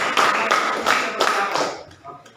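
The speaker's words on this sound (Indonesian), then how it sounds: "Tepuk tangan." Classroom applause during a poetry lesson, a short burst of students clapping in a few uneven waves, close and fairly loud, with voices mixed in.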